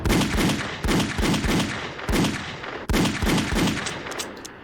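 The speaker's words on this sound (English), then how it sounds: "he manages to get 9 shots out of a 6-shot revolver" Revolver shots from a horror film ring out in a rapid string of loud, close blasts, about a dozen evenly spaced reports, each ending in a brief echoing tail, with no voices.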